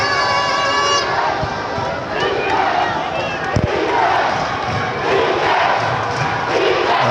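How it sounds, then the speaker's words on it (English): Basketball playoff crowd at a Nairobi semi-final game cheering and shouting, a loud continuous roar with whistles and horn-like tones, occasional thuds and bursts of yelling rising and falling. "And now the crowd has gotten into it."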